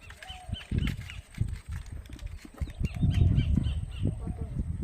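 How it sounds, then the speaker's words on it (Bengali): Assorted birds call and chirp beside a river on a late afternoon as a crab-fishing boat sits on the tide; the bird sounds are scattered throughout, partly under steady talking and low boat and water noise. "বিভিন্ন প্রজাতির পাখির ডাক কিন্তু শোনা যাচ্ছে"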